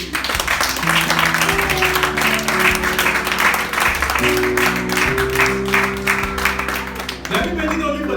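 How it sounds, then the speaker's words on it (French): A church congregation applauds steadily and loudly throughout, dense clapping with cheering voices mixed in, continuous from start to finish. "Est-ce que nous pouvons acclamer le nom de Jésus?"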